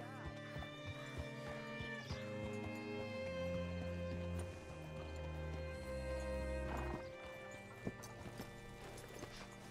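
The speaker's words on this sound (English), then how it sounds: "Hitch your horse up here." Horse hooves clip-clop steadily in the Red Dead Redemption 2 video game, an even walking rhythm heard up close while voices talk over it, with a few louder thumps near the end.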